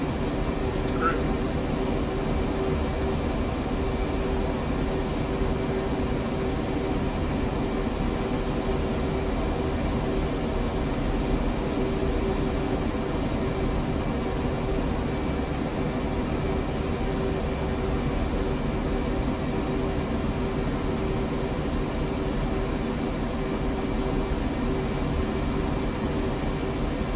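Fighter jet engine roaring in full afterburner in the DCS World flight game, a steady loud broadband rumble that holds unbroken throughout, with no talk over it.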